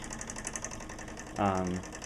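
A small steam engine runs at a flywheel engine show with a faint, steady, rhythmic beat. A short tonal, voice-like sound rises briefly over it partway through.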